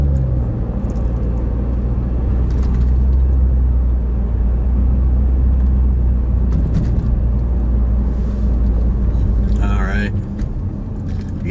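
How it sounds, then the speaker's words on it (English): A car driving through downtown Elmhurst, heard from inside with a steady low engine and road rumble throughout, joined by a few brief higher noises. "I'm going to stop the car back here"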